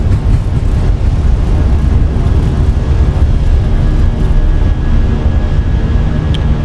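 Airbus A320 jet engines at takeoff power during rotation in the Fenix flight simulator, departing KDCA: a loud, steady low roar and rumble filling the whole stretch, with no talk.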